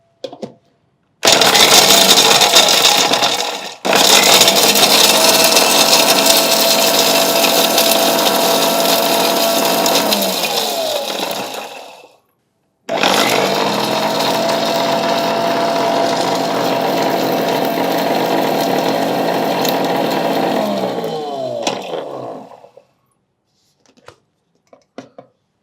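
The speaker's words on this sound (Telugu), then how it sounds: "ఫస్ట్ పూల్ మకాన్ వేసుకొని మిక్సీ పట్టుకుందాం" A kitchen mixer grinder grinds roasted fox nuts (makhana) into powder in two long, loud, steady whirring runs, each cutting off abruptly, with a brief pause between and a few clicks at the end.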